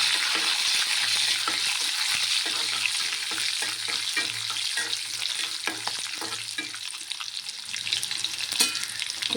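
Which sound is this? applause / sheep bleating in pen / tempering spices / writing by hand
tempering spices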